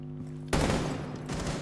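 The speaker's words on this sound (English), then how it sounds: "I'm just shooting so like they know where like I am" Gunfire from a player shooting in the video game Rainbow Six Siege: a loud, close burst of rapid shots starting suddenly, with a second burst near the end.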